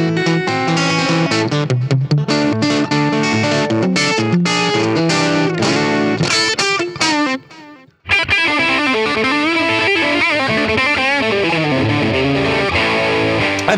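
Electric guitar through a simulated Fender '57 Custom Champ amp on its first input, with dense, driven chords and runs that break off in a brief pause, then resume with lively picked notes, loud and alone.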